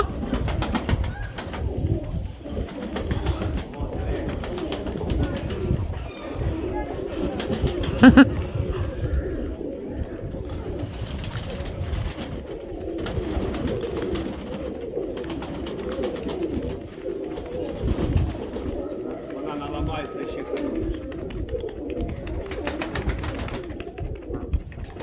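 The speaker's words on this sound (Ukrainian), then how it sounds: "Шикарна голубочка." Pigeons coo repeatedly in low, throaty bursts over a long stretch, with occasional rustling and fluttering nearby.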